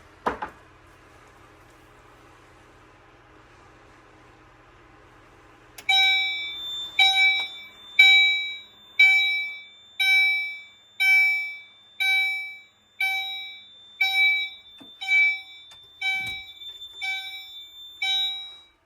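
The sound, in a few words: fire alarm sounding during AFP-200 fire alarm system test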